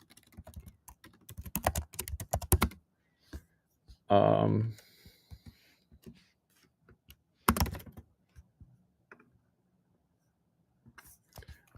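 Quick bursts of clicking on a computer keyboard come close and distinct, with short pauses between flurries, while a person speaks briefly in between.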